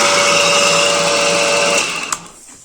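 A Minsk Voskhod motorcycle engine with an SDI ignition idles at low revs in a steady buzzing drone, then is cut off, ending with a short click and a fading hiss into near silence.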